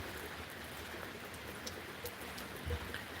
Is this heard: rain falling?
yes